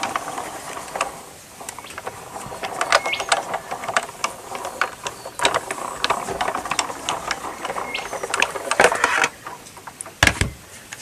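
A Sizzix die-cutting machine is cranked by hand, giving irregular ratcheting clicks and gear rattles in uneven bursts, fairly close and moderately loud, with no talk.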